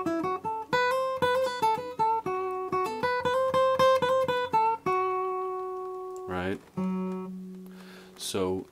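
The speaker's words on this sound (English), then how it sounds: "So if I'm kind of playing like a bluesy scale" A guitar picks a bluesy scale of crisp, evenly plucked single notes bending into a blue note, ending on a sustained tone, with brief talking near the end.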